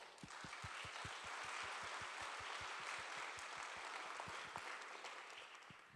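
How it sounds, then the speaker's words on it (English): A large audience gives a big round of applause to open the ASPAC 2024 ceremony for Asia-Pacific science centres: dense, steady clapping that fills the whole stretch at an even level, with occasional louder individual claps standing out near the front. "we officially begin the opening ceremony of Aspac 2024 with a big round of"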